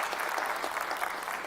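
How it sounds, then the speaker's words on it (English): An audience claps together at a talk event, a dense and steady burst of applause from a room full of people that holds at an even level for about a second and a half. "please give a round of applause for Kathy"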